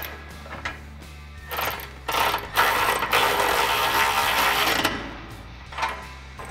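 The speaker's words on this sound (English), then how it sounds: "I'm gonna take my 3/8 gun again" A 3/8 impact gun runs a nut onto a side armor bracket on a 2021-2023 Ford Bronco, giving a short whirring, rattling burst in the middle with quiet handling noises before and after.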